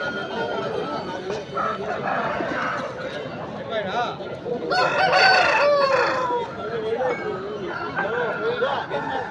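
A Bhimavaram-breed rooster crows once partway through, rising over steady background chatter from several people talking nearby at a market.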